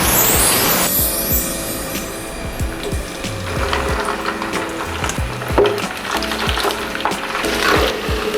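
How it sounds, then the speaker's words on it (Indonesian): Chicken feet and anchovies fry in hot oil with a steady, dense sizzle and scattered crackling pops, close and continuous, with no voices. "Sebelumnya ceker ayam dan ikan terinya sudah aku goreng."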